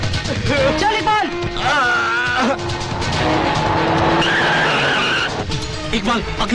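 A car speeding and skidding during a chase, tires squealing with wavering pitch over a loud, continuous engine roar, with shouting voices mixed in.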